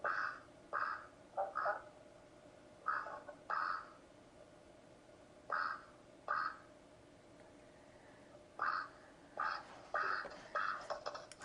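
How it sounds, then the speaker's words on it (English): A drake from a 4-H poultry flock gives slow, deliberate quacks in short bursts of one to three, spaced by quiet gaps. The calls are moderately close, with no talking. "So the male duck has a very slow, methodical quack."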